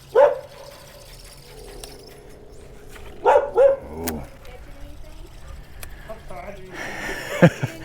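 A dog barks and yips a few times in short bursts from close by on a fishing boat during a bass tournament day on Lake Hamilton, mixed with people talking and light handling noise.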